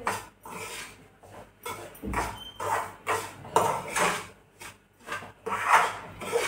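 Dry semolina (rava) roasting in a pan as it is stirred, giving repeated soft scraping and rasping strokes in an uneven rhythm, close and fairly quiet, with no talking.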